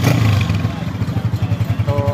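A Honda CG125 motorcycle engine runs after a piston ring change, ticking over in a steady, even low pulse at moderate volume, close by and without speech over it.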